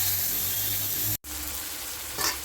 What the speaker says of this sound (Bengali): ফোড়নটা ভাজা হয়ে গেছে, এর মধ্যে দিয়ে দিচ্ছি কেটে রাখা পেঁয়াজ,